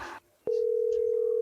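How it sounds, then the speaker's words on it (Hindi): A mobile phone call connects and a steady, loud single-pitch ringing tone sounds, starting right after a short burst of rustling noise and a click. "अरे घंटी जाती।"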